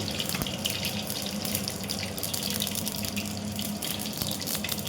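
Mustard, cumin and fenugreek seeds crackle and splutter in hot oil, a dense, steady hiss with scattered sharp pops, close and continuous throughout.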